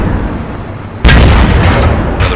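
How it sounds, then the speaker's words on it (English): A World of Tanks battle with a low background rumble, then a sudden loud artillery boom partway through that rolls on with a heavy, reverberating tail. "Artillery's already coming in."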